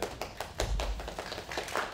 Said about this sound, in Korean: 우리 박수 한번 다 같이 쳐주시죠